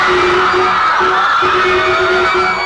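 A crowd at a funk show, loud and continuous, with women screaming and whooping over a sustained music tone and heavy reverberant hall noise.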